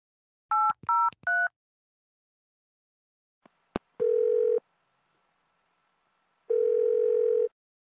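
Telephone keypad dialing in a substation switching simulator: three quick bright tone beeps, a couple of faint clicks, then two sustained steady tone bursts separated by a short gap, all clean and close in a quiet room.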